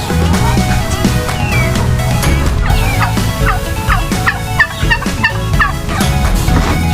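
A flock of small native chickens outdoors, a dense, loud, continuous chorus of clucking, gobbling and squawking calls overlapping close by.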